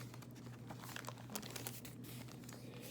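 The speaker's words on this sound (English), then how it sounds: "can't get the page turned" Quiet, close crinkling and rustling of paper, several brief soft crackles in a row over a low steady hum.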